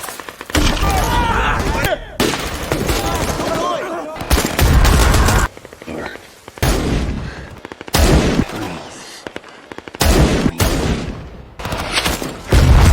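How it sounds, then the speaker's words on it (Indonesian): Loud bursts of gunfire and explosions from a film's assault scene on a guarded hut, rapid volleys broken by brief pauses, dense and close throughout. "Mereka bergerak cepat, menembak pasukan musuh yang berjaga, dan meledakkan gubuk tempat persembunyian mereka."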